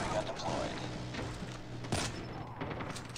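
A Peacekeeper MK2 fires in Call of Duty Mobile in rapid continuous bursts, a steady rattling stream of shots with one heavier thump near the middle, under a low background hum.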